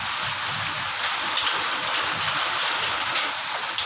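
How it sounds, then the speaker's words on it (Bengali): Hail pours down during a sudden midday storm, a dense, continuous hiss of pelting impacts with occasional sharper hits, sounding steady, close and fairly loud throughout. "এ তো শিল পড়েই যাচ্ছে"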